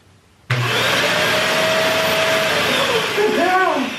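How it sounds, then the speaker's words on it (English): A household vacuum cleaner switches on abruptly and runs with a loud, steady roar that fills the room, its motor whine shifting slightly near the end. "You can't scare me, vacuum."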